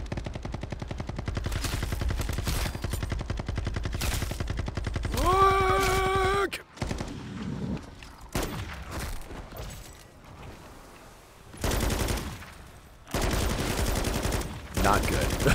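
Rapid gunfire in Modern Warfare 3 Zombies, a pistol firing among sustained bursts, loud and dense for several seconds, then broken bursts after a pause.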